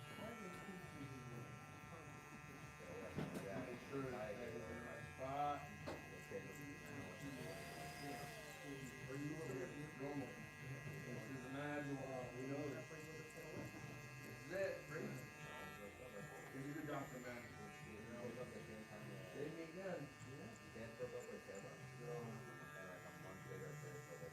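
Electric hair clipper with a blade buzzing through a fade haircut in a barbershop, a steady low hum running throughout under continuous nearby conversation.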